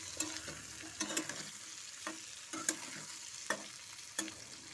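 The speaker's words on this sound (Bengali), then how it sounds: "এই আলুর মধ্যেই আমি দিয়ে ভালো করে পেঁয়াজটা ভেজে নেবো।" Onion fries together with potatoes in a pan: a soft, steady sizzle broken by repeated spatula scrapes and knocks at a loose rhythm, fairly quiet and free of talk.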